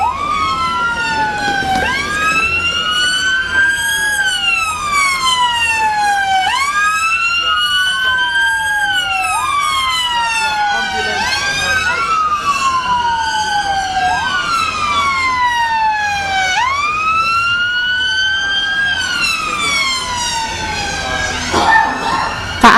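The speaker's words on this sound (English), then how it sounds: "That will be an ambulance, blues and twos of the police vehicle in front." Wailing British emergency sirens sweep up and down in a steady repeating cycle, loud and close, from an ambulance and police car passing together.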